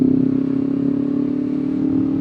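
Steady, close motorcycle exhaust drones at a constant pitch while the bike is ridden, captured by a mic mounted near the exhaust, loud and continuous with a faint rattling texture and no speech.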